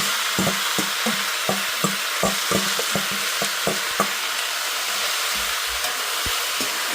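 Ingredients are being mixed and sautéed in a pan, with a spoon scraping in regular, rhythmic strokes over a constant, close sizzling hiss and no talking.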